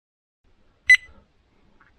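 A single short electronic beep from an XY6020 constant voltage and current regulator sounds once, crisp and close, in an otherwise quiet room.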